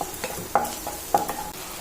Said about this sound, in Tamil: சிம்லேயே வச்சு நல்லா வதக்கி விடுங்க.